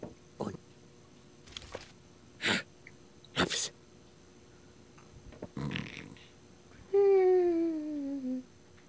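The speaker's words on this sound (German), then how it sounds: "Alter, hör jetzt auf zu schnarchen." A sleeping character snoring in the adventure game Chaos auf Deponia, several separate wheezy snorts spaced a second or so apart, ending in a longer drawn-out whistling breath.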